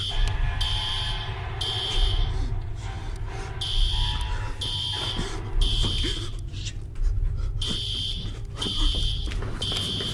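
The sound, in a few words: alarm sounding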